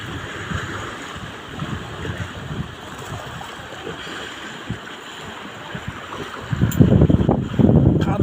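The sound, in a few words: Caspian Sea waves hitting the shore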